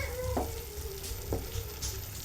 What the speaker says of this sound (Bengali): একটু নেড়ে মিশিয়ে নেব।